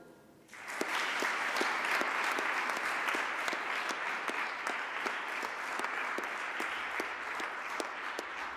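Sustained audience applause at a 2021 graduation ceremony for executive management students at FHWien, starting abruptly after a brief quiet moment and holding steady and dense throughout, with occasional sharper individual claps standing out.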